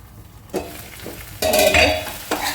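Tomatoes frying in oil are stirred with a utensil in a pan, giving nearby scraping strokes and a bright sizzle that swells partway through, alone without voices.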